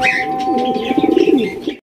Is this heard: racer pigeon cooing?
yes